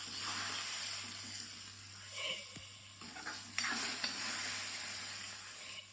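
Grated coconut roasting in a hot pan for an Onam kootu curry gives a soft, steady sizzle with occasional scraping and stirring clicks, faint and close, with a low electrical hum beneath and no talk.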